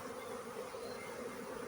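Honeybees hum at a hive in autumn, a soft, steady buzz of many wings forming a continuous low drone, faint and unbroken, with no voices.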